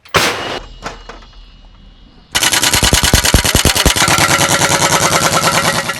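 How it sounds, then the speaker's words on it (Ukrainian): An M101 howitzer booms out loud and close, first a few separate blasts, then a dense, rapid barrage of repeated shots over a rumbling background. "Гармата! Постріл!"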